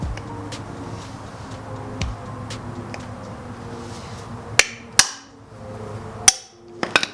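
A flathead screwdriver struck with a hammer while removing parts from a blown-up 2JZ engine, a few sharp metallic blows spaced irregularly over a low garage hum, close and no speech.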